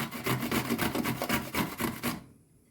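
Rapid rhythmic rasping strokes, about a dozen in quick succession, as pickles are grated on a coarse grater, close up, then stopping abruptly.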